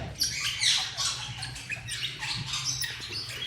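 A Latino opaline female and red opaline male breeder pair of birds, giving dense, harsh squawks and chattering calls close by without pause.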